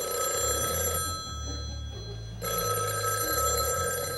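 An old telephone bell rings in two bursts separated by a short pause, steady and clear, a bright metallic trill over a low background hum.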